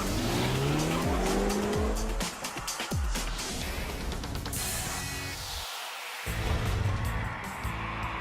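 A 2012 BMW Z4 roadster with its four-cylinder engine driving hard, tires squealing and the engine note rising and falling loudly through sweeping passes, with a brief dropout midway.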